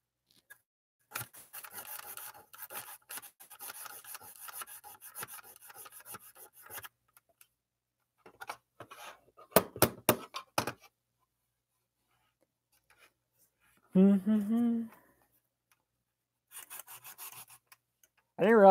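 Coarse 100-grit sandpaper rubs in short, raspy scratching strokes, close and fairly quiet, broken by pauses, sharp knocks and a brief unrelated tonal sound.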